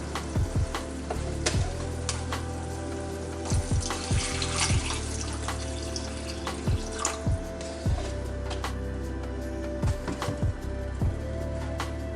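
Marsala wine and carton beef bouillon splash into tuna frying in a pan, giving a steady close sizzle with pouring liquid and scattered stirring knocks; no one speaks.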